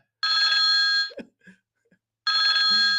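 A telephone rings in two loud, steady electronic trills with a short quiet gap between them, a few faint clicks and knocks in the pause.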